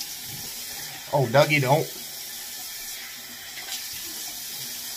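Tap water runs steadily into a sink for rinsing after a wet shave, a soft constant hiss under a short spoken phrase from a man nearby.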